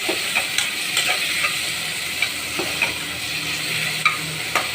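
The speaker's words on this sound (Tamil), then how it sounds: "தக்காளி நல்லா பொன்னிறமாக வதக்கிக்கலாம்." Tomatoes sautéing and being stirred in a pan for chicken biryani: steady close sizzling with periodic soft scrapes and taps of the spoon, no speech.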